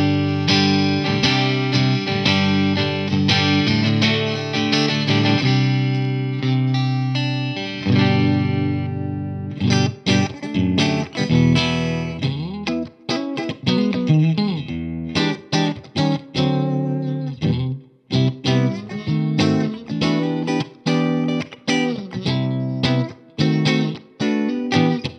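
An inexpensive electric guitar plays close and loud through an amplifier with no one talking, first letting sustained chords ring and then moving to quicker picked notes and strums.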